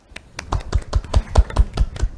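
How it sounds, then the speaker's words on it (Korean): Audience clapping to welcome a professor at a Saturday public science lecture: sharp, separate claps in a quick, fairly steady run, sounding like a modest group rather than a roaring crowd, with no talking. "그럼 큰 박수로 모셔보도록 하겠습니다."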